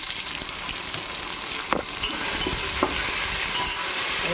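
Tomato, carrot and green chilli pieces fry in a pan for veg pulao, giving a continuous close sizzle with a couple of soft stirring knocks and no voices.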